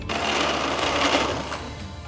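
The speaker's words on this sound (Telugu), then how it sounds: "కొద్ది కొద్దిగా నీళ్లు యాడ్ చేస్తూ పిండిని ఇలా స్మూత్గా అయ్యేట్టు రుబ్బుకోవాలి" A mixer grinder whirs loudly and steadily, churning rice batter thinned with added water for idli, its motor noise dense and continuous with slight surges in intensity, no voices present.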